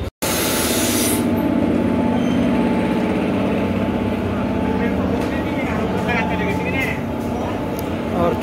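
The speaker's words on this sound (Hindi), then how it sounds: "मेरी ट्रेन अब प्लेटफार्म नंबर 1 पे आ रही है" An Intercity Express train on the Lucknow to Gonda route arrives at platform 1 of Lucknow Junction, a loud sustained rumble of rolling wheels and carriages passing close by, with voices in the background.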